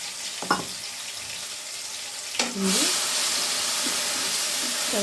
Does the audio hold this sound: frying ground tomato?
yes